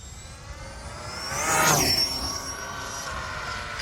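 An Arrma Limitless RC car at full throttle gives a high-pitched electric whine that sweeps past, peaking loudly midway with a clear pitch shift, and then fades slightly as it carries on into the distance.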